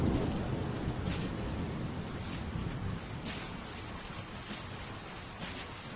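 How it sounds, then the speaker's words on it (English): Steady drizzle from the intro of the video game Vaudeville, falling on grimy city cobblestones: a continuous, even hiss of rain that fades slightly partway through, with no voices. "Even the drizzle that clung to the city's grimy cobblestones felt a shade darker than your everyday downpour."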